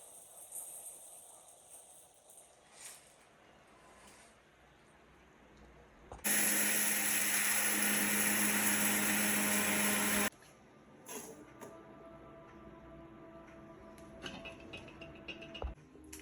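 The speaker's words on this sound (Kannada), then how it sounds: "ಇದನ್ನೆಲ್ಲ ಮಿಕ್ಸಿಗೆ ಹಾಕ್ಕೊಳ್ಳೋಣ" A kitchen mixer grinder pulverises spices for sambar powder, a single loud continuous whirring burst of about four seconds set between quiet stretches with small clattering handling noises.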